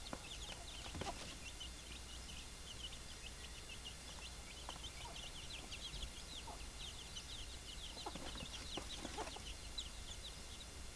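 Native Bisaya roosters and hens cluck and call while feeding on termites outdoors, with scattered short calls over steady ambient noise throughout.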